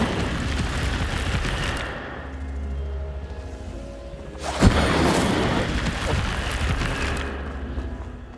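A fire spell cast in the Hogwarts Legacy video game sounds as a sudden whooshing burst near the middle. It rises out of steady game music and ambience, then a roaring flare trails off.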